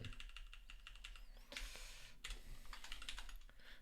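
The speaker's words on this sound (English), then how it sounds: "I'm very bad at typing numbers on normal QWERTY keyboards." Rapid typing on a QWERTY computer keyboard, a dense run of close, crisp key clicks with a few louder bursts, as if from longer or heavier keys, heard alone with no talk.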